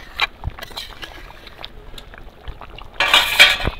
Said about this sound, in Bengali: একদম টকবক করে ফুটছে পুরো।